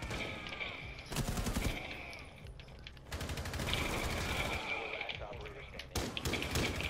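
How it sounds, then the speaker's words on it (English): Gunfire from a shotgun in the video game Rainbow Six Siege: loud, sharp blasts in separate bursts with busy game noise between them, while voices talk over the action. "I shot it with the shotgun thing up to the corner!"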